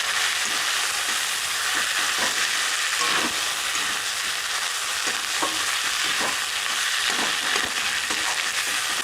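Cumin and green chilli fry with tomato in a pan while cooking yellow cauliflower, a loud, constant close sizzle with scattered crackles and stirring scrapes throughout, no voices.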